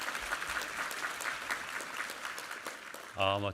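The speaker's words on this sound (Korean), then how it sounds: "우리 하나님께 감사와 영광의 박수 올려드리겠습니다." A church congregation at a Sunday worship service breaks into sustained applause, a dense wash of many clapping hands, and a voice rises over it near the end.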